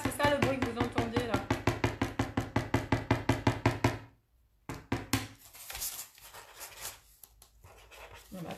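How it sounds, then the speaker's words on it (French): A Posca paint marker tapped on a table in a quick run of about fifteen sharp, regular knocks, close and fairly loud, then silence followed by a few scattered softer taps and faint handling noise. "Je tapote mon Posca, c'est ça le bruit que vous entendez là."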